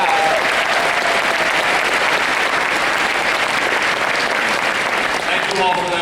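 A large AIPAC conference crowd fills the hall with sustained, dense applause, loud and even for several seconds, with some cheering and voices buried in the wash of clapping.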